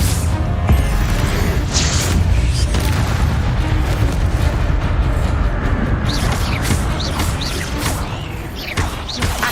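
Incendio fire spell cast in Hogwarts Legacy, a loud whooshing blast with booming crackle that fills the whole stretch, mixed with other game effects and no clear talk.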